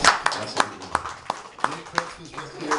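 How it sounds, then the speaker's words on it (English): Audience at a poetry reading clapping in a run of sharp, evenly spaced claps, close and moderately loud, with talk over it. "You can clap for Hangman."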